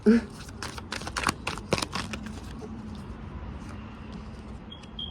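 Tarot cards riffled and shuffled by hand in quick, crisp bursts over the first two seconds or so, with cards spilling out, then quieter handling and faint room noise.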